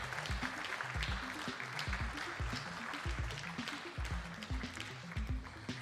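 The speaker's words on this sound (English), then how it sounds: "Go on, clap away," Clapping from the crowd at a Commonwealth Esports Championships medal ceremony in Birmingham, moderately quiet and steady, while a low thumping music beat pulses underneath throughout.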